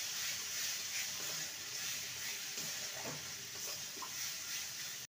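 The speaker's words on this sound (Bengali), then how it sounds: "সমস্ত কিছু ভালো করে কষিয়ে নেব।" A spice mixture with a pinch of sugar stir-frying in a pan gives a soft, even sizzling hiss with a few faint scraping stirs, heard up close without any voices.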